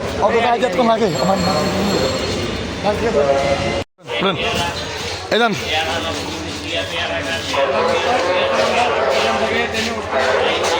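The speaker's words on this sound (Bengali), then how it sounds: "ট্রেনে আমরা সবার আগে উঠে পড়েছি" A train moves along its rails with a steady rumble and occasional wheel squeals, while several people talk loudly over it nearby; there is a brief dropout partway through.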